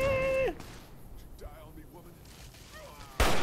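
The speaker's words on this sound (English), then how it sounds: "I shot that guy right off the canyon" A hunting rifle shot in Fallout New Vegas: one sharp, loud burst at the very end, following a quieter stretch with a brief tonal sound at the start and faint voices.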